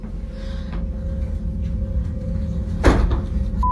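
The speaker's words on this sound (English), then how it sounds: "I've just shut door." A door is shut with one sharp thud partway through, over a steady low hum and rumbling room noise.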